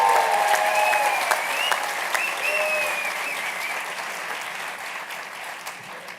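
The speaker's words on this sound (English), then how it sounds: "Join me in welcoming Leen to the stage" Audience at a Harvard medical school event claps steadily for a speaker taking the stage, a dense, even round of applause that fades slightly toward the end.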